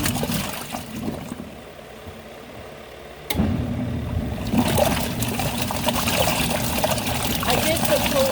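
A portable clothes washer churning clothes in a mix of cold and warm water, quieter sloshing at first, then a sudden jump to louder, continuous swishing and trickling water close by.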